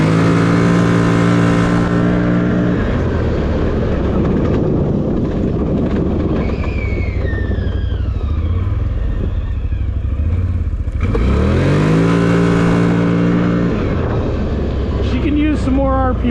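A 2024 third-generation CFMOTO CFORCE ATV engine revs and drops while riding with a passenger aboard, its steady drone rising through shifts. A loud surge comes near the start and another around the middle, with voices talking over the engine.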